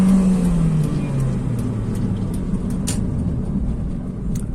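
Honda Jazz with CVT automatic and simulated gear steps accelerating, a loud steady engine drone heard from inside the cabin, with a falling tone as the revs shift early on.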